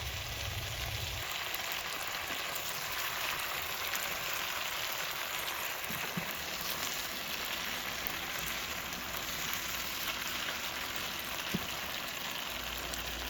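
Kimchi pork stir-frying in a pan as sesame oil is drizzled in, a steady, close hiss of sizzling oil that runs unbroken throughout.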